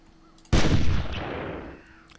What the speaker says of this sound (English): Yeah, I missed that first shot.